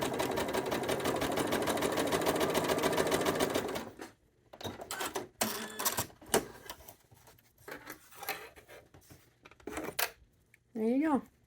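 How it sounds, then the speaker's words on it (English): A sewing machine stitching a quarter-inch quilting seam hums in a loud steady run of rapid needle strokes for about four seconds, then stops, followed by quieter handling clicks and a short whirring burst near the end. "as I sew, it'll make my seam 1/4 inch away from that center line"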